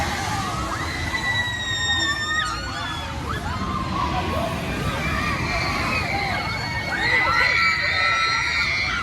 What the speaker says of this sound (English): But do you hear those screams?